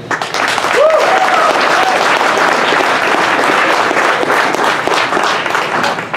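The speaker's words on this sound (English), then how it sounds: "so let's give him a great big hand." A conference audience bursts into sustained, dense applause for a speaker. The clapping stays loud and even throughout, with faint cheering over it.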